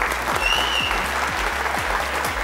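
Studio audience applause on a Persian Family Feud–style game show, steady dense clapping throughout with a faint rhythmic thumping underneath.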